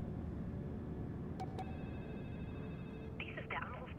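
A phone call placed in the Splinter Cell Blacklist video game: dialing tones start at about 1.4 s, followed by a steady ringback tone and then a burst of ringing near the end, all over a constant game background hum.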